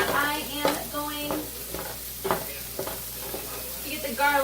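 Food stirred in a frying pan while preparing stuffed tomatoes with couscous and zucchini, with repeated scraping strokes over a steady sizzle, close and fairly loud, and no talking.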